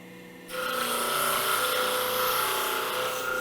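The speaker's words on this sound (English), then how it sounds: "80 grit sandpaper on the drum" Drum sander with 80 grit sandpaper taking very light cuts in wood on a CNC router, a steady abrasive whir and rasp starting abruptly after a brief quiet moment and continuing at an even, loud level.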